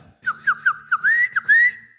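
A loud whistle made with the fingers sounds in a string of short sharp chirps, then two longer held tones, all close and clear.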